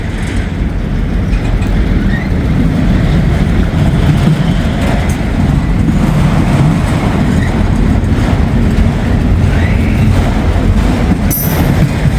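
A train rolls past with a steady, loud rumble of wheels on rails in Northern Kentucky, heard close and continuous, with a brief high squeal near the end.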